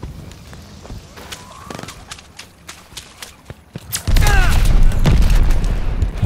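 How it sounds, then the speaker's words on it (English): Mortar rounds land in Call of Duty: Vanguard multiplayer on the Oasis map, heavy rumbling blasts that swell into a loud, sustained barrage after scattered lighter gunfire and clatter. "Allied mortar fire coming!"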